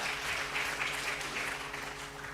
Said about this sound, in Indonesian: Dan itu tepuk tangan untuk pemakalah yang ada di belakang ini ya.